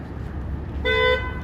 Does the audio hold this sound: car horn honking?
yes